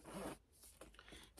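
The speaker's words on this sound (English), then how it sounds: "This comes with a bag zipper right here." A zipper on a faux-leather handbag is pulled open in a short, raspy zip, followed by a few softer zipper ticks and rubbing, close and quiet.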